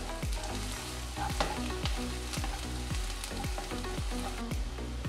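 Green and red chillies frying in a pan, a constant close sizzle with regular, evenly spaced scraping strokes of the stirring spoon.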